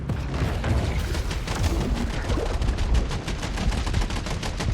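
Rapid bursts of gunfire fill a Maneater Truth Quest game scene, dense repeated shots that blur together like a machine gun, loud and continuous throughout.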